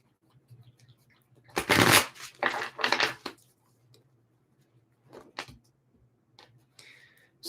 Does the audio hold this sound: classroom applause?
no